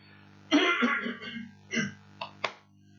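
A few rough coughs and throat-clearing bursts from one person, close by, spaced out over a couple of seconds with quiet gaps between.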